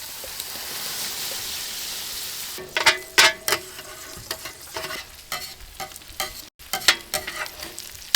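Bacon and potatoes fry on a 22-inch Solo Steelfire travel griddle outdoors by a creek, a steady close sizzle joined by scraping and tapping of a spatula against the steel top in irregular bursts.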